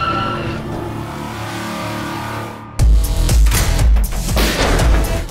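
A car in an action film trailer turns and accelerates hard. A quieter stretch of engine hum gives way to a sudden loud roar with heavy low-end booms and revving bursts, close and powerful.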